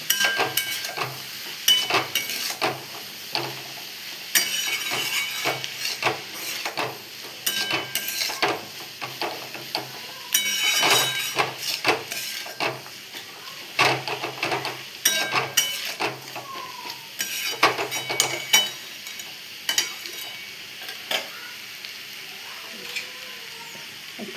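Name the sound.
frying and stirring food in a pan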